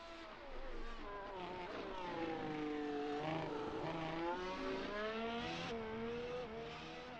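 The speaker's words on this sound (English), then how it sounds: "I just absolutely love the sound of these cars here in this simulator." F1 race car engines from a Formula One racing simulator game at Hockenheim whine loudly and continuously, high-pitched revs rising and falling through gear shifts with brief tire squeal, no voices.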